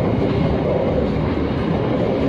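A freight train of empty cement wagons rumbles loudly and steadily as it switches onto track 2, a broad continuous roar close by.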